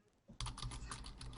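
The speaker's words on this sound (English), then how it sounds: "Are you done typing?" Fingers type steadily on a computer keyboard, producing a quiet, continuous patter of rapid key clicks that starts abruptly after a brief lull.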